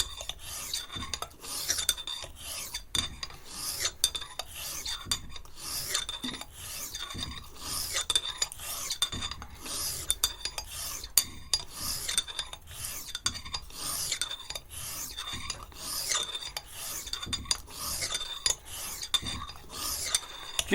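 A straight razor drawn across an oilstone in rapid repeated passes, a close, rhythmic gritty rasping with light metallic scrapes, continuous and without talk.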